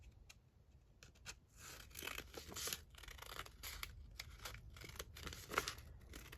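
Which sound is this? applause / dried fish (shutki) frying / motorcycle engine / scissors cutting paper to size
scissors cutting paper to size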